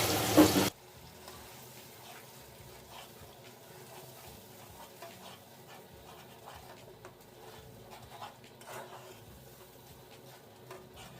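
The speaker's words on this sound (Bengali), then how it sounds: "এখন একটু পানি দিয়ে মশলাটা খুব ভালোভাবে কষিয়ে নেব" Spice paste with a little water frying and being stirred in a pan while cooking a shahi chicken pulao, giving a steady low sizzle with scattered scraping stirs. A loud bump opens it.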